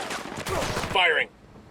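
Rapid gunfire from the Ghost Recon Wildlands video game rattles in a brief dense burst, mixed with a voice and a short electronic tone before cutting off to quiet.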